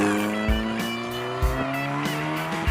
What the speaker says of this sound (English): there's a heavy whine, it comes from the straight cut gears and all of that.